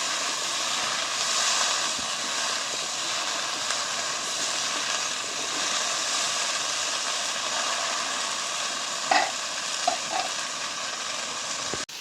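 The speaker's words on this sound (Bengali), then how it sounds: "ঢেঁড়সটা আমি ভালো করে ভেজে নেব।" Steady, loud hissing sizzle of chopped okra frying in a pan nearby, with a few light clinks of a utensil near the end.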